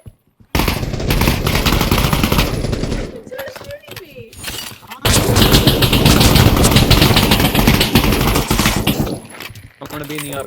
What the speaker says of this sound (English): I just got the escapee shooting at us.